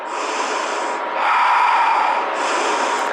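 Loud, close breaths during a power yoga flow: a long forceful exhale and inhale through the nose, airy and hissing, repeated in steady slow cycles with no talking.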